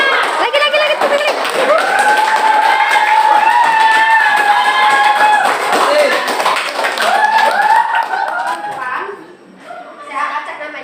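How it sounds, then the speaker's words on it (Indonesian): Students in a classroom clap again in a long, loud round of applause mixed with cheering and children's voices, tapering off near the end with a few lingering claps and chatter. "Lagi, tepuk lagi."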